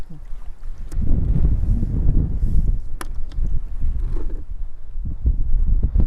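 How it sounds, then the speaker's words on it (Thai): Wind buffets the microphone outdoors beside water while mussels are gathered, a loud continuous low rumble with gusts that swell and ease throughout, no talk over it. "หนวกหูเสียงลมในเด้อพี่น้อง"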